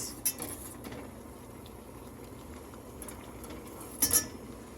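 A spoon mixing rock candy sugar solution: a few light, bright clinks at the start and again near the end, with quiet background between.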